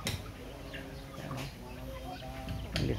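Chickens clucking near a grape trellis, several close, repeated clucks and short calls scattered through the moment over soft background noise, with a voice briefly speaking among them.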